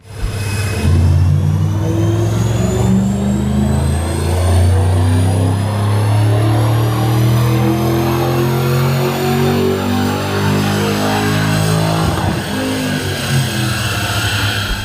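A low-mileage, tune-only 2005 Ford Mustang GT V8 revving on a dyno, a loud, close engine roar climbing steadily in pitch through a long pull, then easing off near the end.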